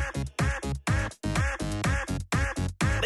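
Voices at a dance party imitate duck quacks in a quick, rhythmic series of about a dozen nasal bursts, loud and close.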